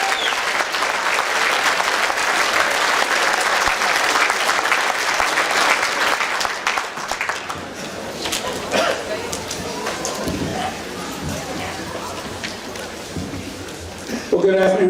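Loud, sustained audience applause at a speakers' event in Drayton Valley, Alberta, with clapping thinning out toward the end and some crowd voices and whoops mixed in.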